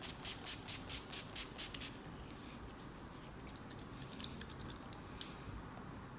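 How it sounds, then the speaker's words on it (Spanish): NYX matte-finish makeup setting spray misted in a quick run of about ten short, rhythmic pumps close to the mic, followed by a fainter low hiss and a few soft handling noises. "voy a sellar ahora el maquillaje con este spray de NYX, que es con una terminación mate"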